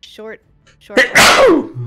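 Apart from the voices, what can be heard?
sneeze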